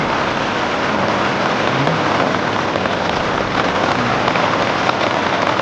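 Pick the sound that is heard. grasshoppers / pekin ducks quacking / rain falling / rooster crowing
rain falling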